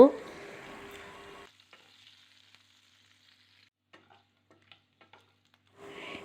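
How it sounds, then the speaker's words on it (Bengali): Potato pieces frying in a pan over a medium-to-low gas flame while a Bengali fish curry is cooked. A loud sizzle fills the opening second and a half, then near silence with a few faint clicks, and the sizzling returns briefly at the end. "এবার কেটে টুকরো করে রাখা আলুগুলো দিয়ে ভেজে নেব"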